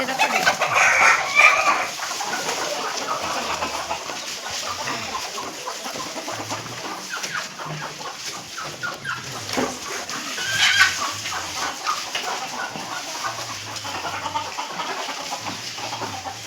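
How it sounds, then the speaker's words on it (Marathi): Several farm chickens cluck and squawk nearby in a busy, continuous chorus, with occasional louder cries standing out. "कोंबड्यांचा कसा दंगा चाललाय बघा"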